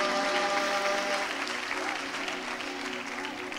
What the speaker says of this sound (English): Kindly clap for my daddy in a big, big way